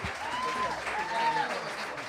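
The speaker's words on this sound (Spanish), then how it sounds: "Aplauso para mi Andreita." Audience applause at a mariachi performance, steady and full across the clip, with voices faintly audible underneath.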